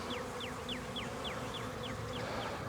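A steady close drone of honey bees hovering around the front of a hive, with a repeated series of sharp descending chirps, likely a bird, sounding evenly over the continuous buzz.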